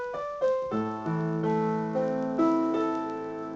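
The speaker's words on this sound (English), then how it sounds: "Listen to all those sounds ringing on" Piano plays a passage of Beethoven's Für Elise with the sustain pedal held down, notes struck one after another and left ringing together into a swelling, overlapping wash, close and alone.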